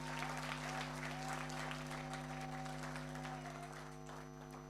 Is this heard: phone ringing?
no